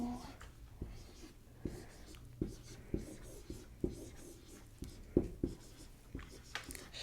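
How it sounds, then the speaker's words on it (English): Pen writing on paper during a quiet English lesson on commas, soft scratchy strokes broken by sharp taps that recur at an irregular pace, close and intimate, under faint whispered speech. "I'm going to write it down"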